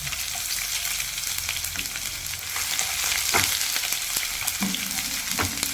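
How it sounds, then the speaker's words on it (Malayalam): Shallots fry in hot oil with mustard seeds and fenugreek, a dense, steady sizzle with crackles and occasional spoon stirring against the pan, close and continuous without speech. "ഒരു സ്പൂൺ കടുക് ഇട്ട് കൊടുത്തു നമുക്ക് നമ്മുടെ ചെറിയുള്ളി ഇട്ട് കൊടുക്കണം"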